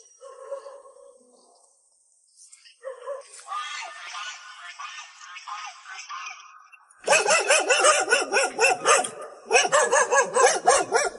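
A dog at a remote mountain-gorge homestead barks repeatedly, first at a distance and then much closer and louder in rapid bursts, with a few faint bird calls in the quiet early part.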